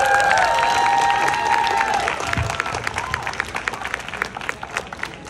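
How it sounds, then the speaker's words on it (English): Audience applause swelling with cheers and whoops at first, then settling into steady clapping that gradually thins out, fairly loud and close. "Another round of applause for Ritu."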